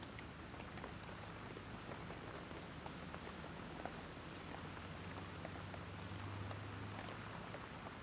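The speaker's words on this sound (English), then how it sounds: "the rain has come down harder and harder this afternoon here in Dongguan, China" Heavy rain pours steadily over a golf course at Mission Hills in Dongguan, China, during the final round of a women's professional championship, a dense continuous hiss of falling water with no voices.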